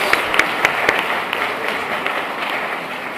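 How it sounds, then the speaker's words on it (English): Graduates at a university graduation ceremony applaud their families and friends in a large hall, a broad wash of many hands clapping at moderate loudness with a few sharper nearby claps early on. "please thank them by clapping"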